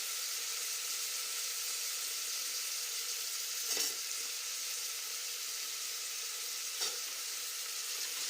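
Onions, cumin and green chillies frying in oil, a continuous even hiss of sizzling broken by two faint stirring clicks, with no voices.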